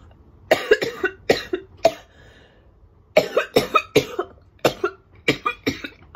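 A person coughs hard after a vape hit from a sativa disposable, two rapid harsh fits of roughly a dozen loud, close, barking coughs separated by a short pause.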